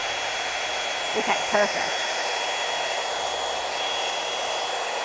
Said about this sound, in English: Now I have this blow dryer on.